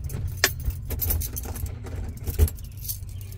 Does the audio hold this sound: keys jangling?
yes